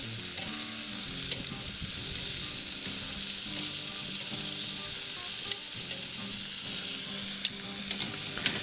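Butterflied chicken drumsticks sizzle on a BBQ grill with a continuous, even crackling hiss, occasional sharper pops standing out over the steady fry, with no talking.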